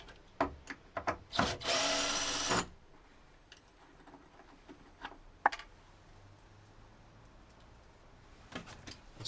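A power drill whirs for about a second in a van conversion, taking out screws, after a few short taps and followed by quiet clicks and handling noises nearby.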